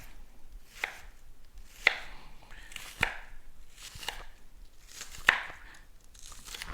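A not very sharp knife makes several crisp, separate chops as it cuts through food for crock pot red beans, about five distinct cuts spaced a second or so apart, close and quiet in a still room.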